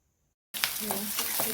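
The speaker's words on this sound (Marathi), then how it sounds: "छान असं परतून घेऊया हाय फ्लेमवरच आपल्याला या भाज्या परतून घ्यायच्या आहेत" Capsicum and carrot sautéing over a high flame in a tempering for chicken chilli, a steady loud sizzle that bursts in suddenly after a brief silence and carries on with occasional stirring scrapes.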